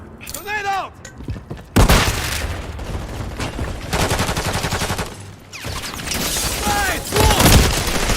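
Gunfire bursts and grenade blasts from a Call of Duty Modern Warfare 3 match, loud sustained volleys of automatic fire with heavy booms, while voices call out over the battle.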